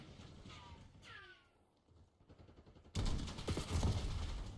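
Gunfire in a first-person shooter video game, starting as scattered shots and swelling into a loud, dense burst of rapid fire in the second half, with no talking.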